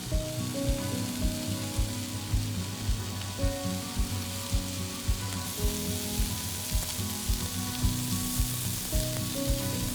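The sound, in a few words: beef rice rolls frying in a pan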